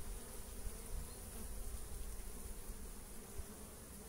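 Honey bees hum at the hive in a dense, steady buzz, quiet and continuous, with no voices.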